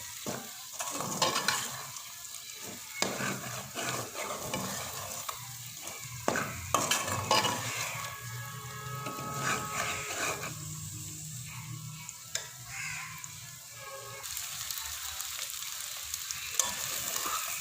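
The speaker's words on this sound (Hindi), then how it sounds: "3 अंडे जो मैंने तोड़ के रख लिए हुए हैं। अच्छी तरह से इसको मिक्स कर लेंगे, अच्छी तरह से इसको पका लेंगे।" Three beaten eggs fry in a hot pan for an egg and potato curry, with a continuous soft sizzle broken by frequent scraping, clacking stirs from a spoon against the pan, close up and with no talking.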